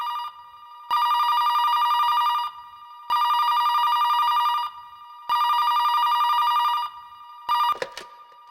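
A telephone bell rings in three long bursts with short pauses, loud and close, followed by a brief final ring cut off by a clatter as the receiver is picked up, in a household setting.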